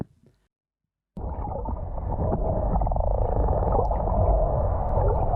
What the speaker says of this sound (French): On pense que c'est une série de clics d'une baleine à bosse